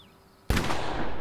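A single loud, close gunshot from a large handgun in the horror video game The Quarry, bursting suddenly after a quiet moment and followed by a long, heavy ringing decay.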